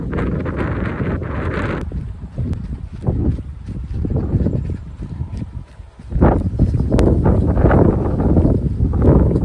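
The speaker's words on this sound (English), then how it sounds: "it is a little bit windy today during the run" Gusty wind buffets the microphone outdoors on a running route, a loud, steady low roar that swells in waves, easing briefly around the middle before surging back stronger.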